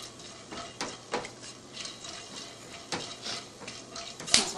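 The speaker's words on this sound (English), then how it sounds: "We're going to add in the cloves, the peppercorn, bay leaves, and the green cardamom. Just give it a 30-second roast." Whole cloves, peppercorns, bay leaves and green cardamom roasting in a pan, heard as scattered clinks and scrapes of a utensil against metal, with light crackling and irregular knocks at close range.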